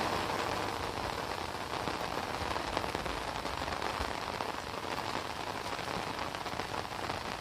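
Steady rain falls close by, a dense, even patter of drops on surfaces that holds unchanged throughout.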